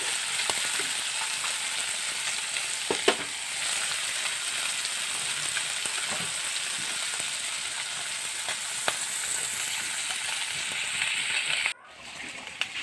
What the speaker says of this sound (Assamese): এয়া মই মাছখিনি ভাজি ল'লোঁ